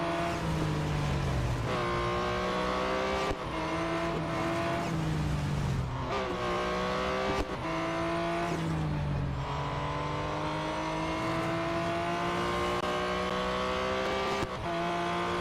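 A Porsche 911 GT1 Strassenversion racing in a video game, its engine climbing in pitch through repeated gear changes with brief dips between shifts, loud and continuous with occasional tire squeal.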